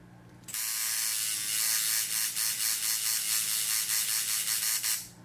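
A coil tattoo machine fitted with cartridge needles starts up and runs steadily for about five seconds, a close, loud high buzz with a rapid mechanical chatter that pulses faintly before it cuts off.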